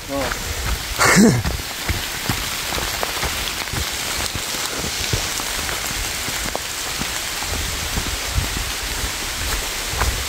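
Rain falls steadily through a forest in Nepal, a dense continuous hiss of drops on leaves and ground, close and even, with a brief louder sound near the start.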